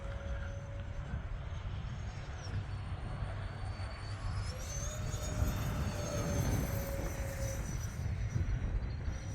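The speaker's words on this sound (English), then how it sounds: "with the two motors, if I hit the throttle, it does respond pretty good" Twin-motor E-flite A-10 Thunderbolt II RC jet making a low pass, its electric ducted-fan whine steady and fairly distant, swelling slightly as it passes, with shifting tonal pitch and no talk.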